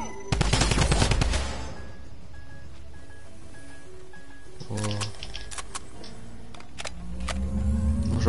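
Sniper gunfire in a video game, a loud burst of sharp shots at the start fading into quieter clicks and scattered game effects, with a few fainter impacts later.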